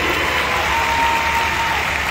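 Big circus audience applauding during a show, a thick, steady wash of clapping filling the tent without voices over it.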